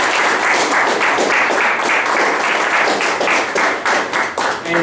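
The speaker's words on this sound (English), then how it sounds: "So can we have a round of applause?" Audience applause at a Toastmasters club gathering, a dense, steady wash of many hands clapping close and loud for about five seconds, with no talk over it.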